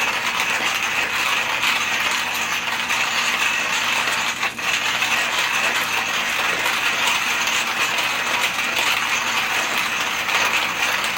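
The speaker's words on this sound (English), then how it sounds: "To grind 12 grams, not a lot of effort" A Porlex hand coffee grinder crunches through 12 grams of beans with a continuous close, gritty rattling grind that keeps an even rhythm throughout, with no voices.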